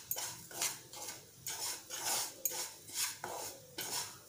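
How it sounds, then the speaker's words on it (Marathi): Semolina is stirred and roasted in ghee on low heat, heard as a close, rhythmic series of spoon scrapes against the pan, roughly eight strokes over a faint background with no speech. "1-2-3 मिनिटं आपण तुपामध्ये छान परतवून घेऊया।"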